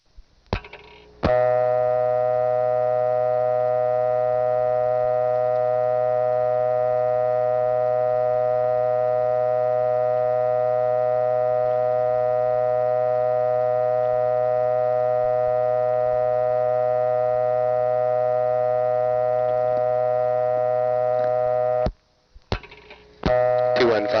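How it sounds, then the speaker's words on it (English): A 1976 payphone gives a long, steady dial tone, a continuous even hum that holds loud and unbroken for about twenty seconds, then cuts off with a few brief clicks. "here's a long dial tone from this one."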